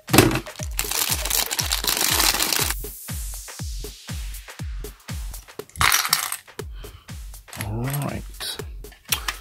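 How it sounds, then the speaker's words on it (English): Product packaging being cut open: close, rapid crackling and crinkling of plastic, with repeated sharp snips and rustles in a fast rhythm, then a few scattered crunchy tears. "Cut this thing open."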